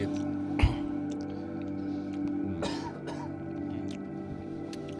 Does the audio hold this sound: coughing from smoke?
yes